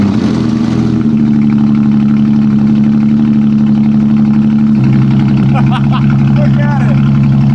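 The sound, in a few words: Porsche 911 engine starting and idling with no intake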